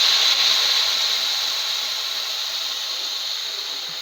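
Tomato paste sizzling in hot ghee in a pan gives a loud, steady hiss that fades slightly over the seconds.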